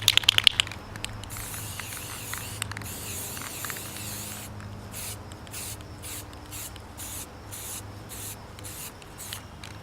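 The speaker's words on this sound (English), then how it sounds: "we'll get the spray paint a little bit here and see how it ends up working out" Tactical spray paint hisses from an aerosol can onto gear in steady bursts, close and fairly loud, with short pauses between sprays and faint rubbing and handling noises underneath.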